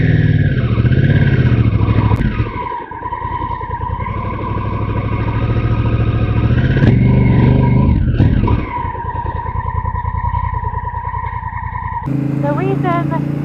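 A Honda Africa Twin motorcycle engine runs steadily and loudly close by, with rumbling revs and brief dips, a few mechanical clatters along the way, in Louisiana's Kisatchie National Forest.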